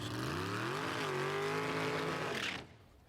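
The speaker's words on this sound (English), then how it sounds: "The car doesn't accelerate very fast here. Why? It's spinning the tires." Drag racing car at a Gainesville, Florida strip spinning its tires at launch, a loud sustained engine roar with rising harmonics and tire squeal for about two and a half seconds before cutting off abruptly.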